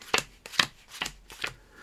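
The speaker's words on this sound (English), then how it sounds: "maybe we'll do a left-right shuffle" Playing cards are shuffled in a left-right shuffle, four crisp riffling bursts in an even rhythm, close and clear with no talking.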